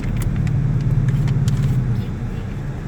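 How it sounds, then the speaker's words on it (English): A deep, steady exhaust rumble from a 2018 Mustang GT engine, loud and close, droning continuously without pause. "y'all can hear just how good this exhaust sounds"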